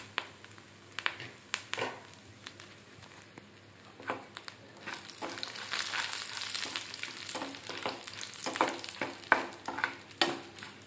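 Dried red chilies drop into hot oil in a frying pan while Andhra-style coconut mango chutney is being made. A soft sizzle swells midway, with intermittent clinks and scrapes of a utensil against the pan.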